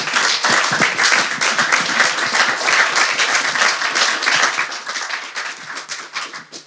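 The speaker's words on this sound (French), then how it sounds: "On peut peut-être applaudir." Loud, dense applause from an audience at a public talk on everyday cooking as heritage in the Dordogne, holding strong for several seconds before gradually thinning and fading.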